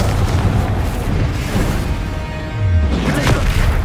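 Fiery Confringo spell blasts in the Hogwarts Legacy video game, a continuous run of heavy booming explosions with a deep rumbling low end and a louder burst near the end, no talking.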